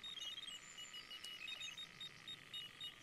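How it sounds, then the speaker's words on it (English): Bite alarm on a carp fishing rod in the Fishing Sim World Pro Tour, beeping in a quick run of high electronic bleeps over a steady background hum, with no talking. "Ooh, beeps. Who's beeping number two?"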